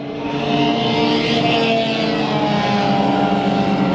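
Race cars roar around Bakersfield Speedway in an 8-lap heat race, the 13X among them, a continuous loud, dense engine drone holding steady throughout with no talk.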